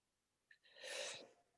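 A single sneeze from a person in a quiet interview room, a short intake of breath followed by a brief, fairly faint burst.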